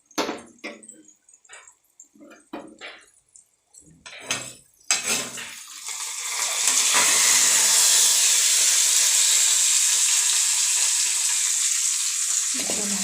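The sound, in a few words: water added to a covered pan of cooking bitter gourd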